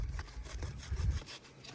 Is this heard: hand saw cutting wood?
yes